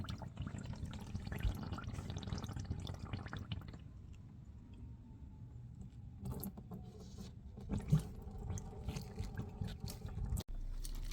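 Engine oil drains from a car during an oil change, a steady low liquid rush with faint dripping and occasional mechanical clicks, ending in a sharp knock.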